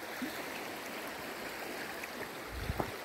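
Water flows in a small stream on a cocoa farm during hot weather, a steady close rushing and gurgling wash that stays even throughout, with a few low knocks near the end.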